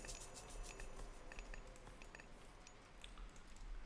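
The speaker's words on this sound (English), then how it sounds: "And there's the rain" Steady light patter of rain falling across the map in Age of Mythology: The Titans, a soft continuous wash of droplets with scattered faint clicks of game sounds, heard alone without talk.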